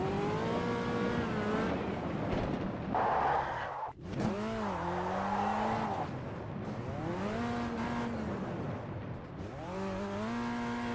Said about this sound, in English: Can't beat a bit of a donut to test engine sound.